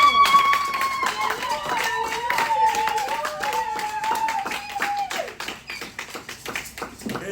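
Congregation in a church applauding in praise, steady quick clapping mixed with voices and sung tones, loud and close before thinning out toward the end.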